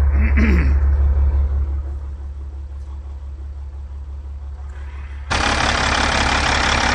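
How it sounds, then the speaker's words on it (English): A truck engine running with a loud, steady low rumble that eases slightly, then a sudden surge of broadband roar near the end, close and dominant. "As you can hear, it starts up first turn, has for its entire life."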